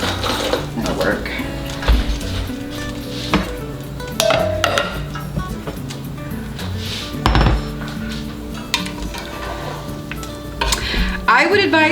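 Tongs clank and scrape against a metal pot while ham bone pieces are fished out of broth, with irregular knocks and rattles and a person talking over them.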